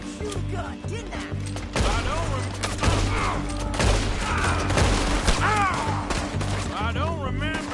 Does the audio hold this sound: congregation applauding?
no